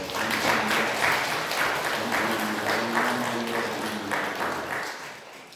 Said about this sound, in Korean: 우리 하나님께 우리 감사와 찬송과 영광의 박수를 올려드리겠습니다